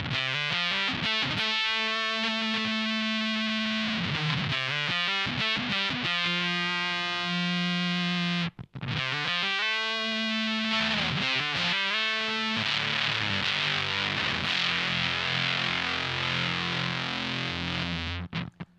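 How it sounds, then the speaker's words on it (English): An electric guitar plays through a fuzz pedal on its normal fuzz setting: sustained distorted notes and chords, loud and saturated, with a brief break near the middle and a dense strummed wash toward the end, and no voice. "So it has a fairly normal fuzz sound."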